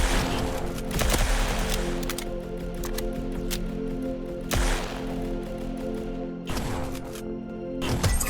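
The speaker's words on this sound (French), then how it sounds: "On va essayer de tirer dessus." Gunfire in the video game Fortnite, a run of sharp repeated shots in bursts with loud cracks around the start, middle and end, layered over continuous game background sound.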